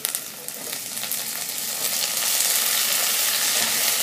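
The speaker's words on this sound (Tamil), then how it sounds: "அதையும் கொஞ்சம் நல்லா ஒரு 2-3 மினிட்ஸ் அந்த தக்காளியோட டெக்ஸ்சர் மாறுறது வரைக்கும் வதக்கிட்டு" Ginger, green chillies and chopped tomatoes sauté in a hot pan for chana masala: a loud, close, hissing sizzle that grows steadily fuller over a few seconds, heard alone without speech.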